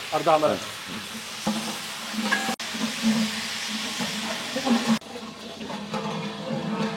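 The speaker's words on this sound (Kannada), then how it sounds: "ಪುದೀನ ಚೆನ್ನಾಗಿ ಫ್ರೈ ಆಯ್ತು." Mint leaves sizzle and crackle in hot oil on a street food cart griddle, a steady frying hiss with occasional sharp stirring clatters and brief scraping bursts.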